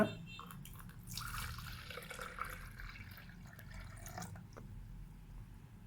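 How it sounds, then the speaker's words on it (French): Salt water being poured into a container on a scale: a faint, steady trickle of liquid running for several seconds, quiet and close, with no voices. "Et je verse."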